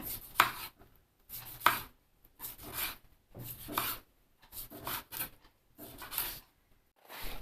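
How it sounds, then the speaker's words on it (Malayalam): A knife chops a large wild lemon (vadukapuli) into small pieces on a board, sharp close taps coming in quick bursts separated by short pauses. "ഇത് മുഴുവൻ നമുക്കതുപോലെ മുറിച്ചെടുക്കാം."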